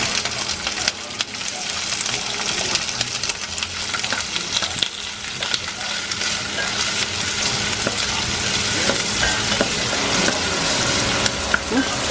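Onions sizzling and frying in a hot pan, a steady loud crackle running throughout with occasional stirring scrapes.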